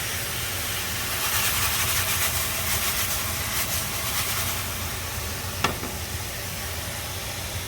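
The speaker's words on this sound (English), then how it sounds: "we really want to brown this meat up really good before we add anything else to it" Ground meat browns in a hot pan as filling for crispy spring rolls, giving a loud, steady sizzling hiss that holds throughout, with one brief knock partway through.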